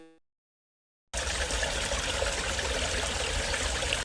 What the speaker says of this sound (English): I am really going to test the water sound effect from a video called Gacha.